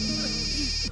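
A phone ringtone plays briefly, a steady electronic tone with a faint repeating pattern, quiet and heard alone.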